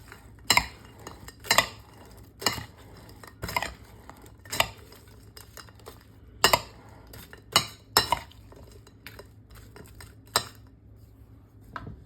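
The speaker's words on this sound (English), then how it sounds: "Stir that up." A spoon stirs a summer dish with croutons in a container, giving about a dozen sharp clinks against the sides at an uneven rhythm, near and alone.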